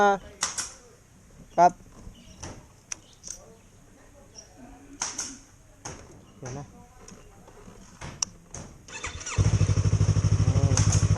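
Yamaha R3 motorcycle with a modified exhaust starting up, a loud steady engine drone kicking in near the end after mostly quiet stretches with scattered clicks and someone talking.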